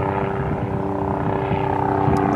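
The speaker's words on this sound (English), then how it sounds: "Helicopter incoming." A helicopter passes over San Francisco Bay near a large, sheltered marina, its steady rotor and engine drone holding at a constant, fairly loud level for the whole moment with no talking.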